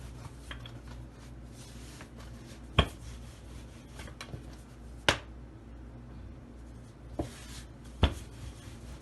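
A ghee-filled besan roti dough is rolled out with a rolling pin: a soft, steady rubbing runs throughout, broken by four sharp knocks spaced a couple of seconds apart.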